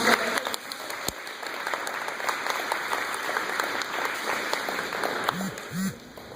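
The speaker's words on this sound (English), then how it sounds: "we can give them a round of applause" Audience applause at a community meeting against Common Core in Beaverton, Oregon, a steady wash of clapping hands with a few louder claps, thinning out toward the end.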